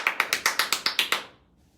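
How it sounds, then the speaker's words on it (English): Nine quick, sharp hand claps in a steady even rhythm, close and crisp, followed by a short quiet tail with no talking. "I'll do 10 claps in a row"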